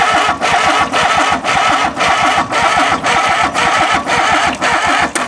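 An engine is cranked over by its starter, a steady loud churning whir with rhythmic pulses about every half second, running continuously without catching, with no talk.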